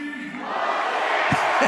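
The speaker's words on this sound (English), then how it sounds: "A crowd going wild." A stadium crowd at a Portugal Grand Prix 2022 sports final roars and cheers wildly in a loud, sustained wall of noise, with a few shouts rising out of it.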